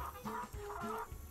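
A chicken clucking in the Nancy Drew: The Secret of Shadow Ranch video game, with three or four short, close, fairly quiet clucks in an uneven rhythm and no talk over them.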